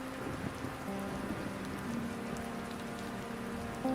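Steady rain pours down outdoors, a dense, even wash of falling water that holds at a constant level from start to finish with no voices over it.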